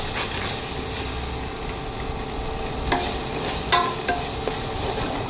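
Onion, ginger-garlic paste, tomato and mint being sautéed for a squid curry give a steady sizzle with stirring, broken by a few sharp scrapes and clicks of the spoon against the pan.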